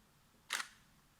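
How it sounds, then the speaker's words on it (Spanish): A single crisp SLR camera shutter release at 1/4000 second: mirror flips up, shutter opens and closes in one quick sharp click, close and alone against a quiet room. "Eso es lo que es el sonido de sube el espejo, abre el obturador, entra la luz y se cierra"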